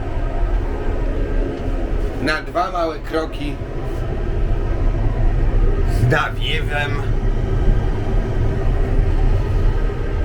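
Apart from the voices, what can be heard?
inside a moving train's toilet, train running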